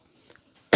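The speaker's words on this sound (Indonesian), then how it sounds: "batuk ya, mohon maaf" A single short cough bursts out near the end of a quiet pause in an Islamic studies lecture, close and sharp after near silence.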